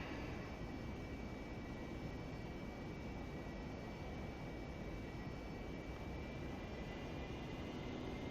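An AV-8B Harrier jet engine in the DCS World flight simulator drones as a loud, continuous roar with a faint steady whine, heard alone without talk after throttling back during night flight.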